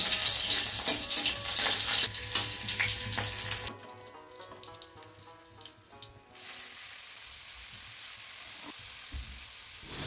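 Panch phoron spices and chillies fry in hot oil in a pan with loud, crackling sizzling that drops off abruptly, then continues as a softer, steady hiss, with no voices.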